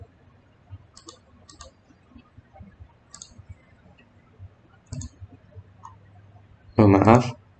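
Computer keyboard keys, including the enter key, being pressed: a few soft, scattered clicks spread over several seconds, then a louder, fuller burst near the end over a quiet background.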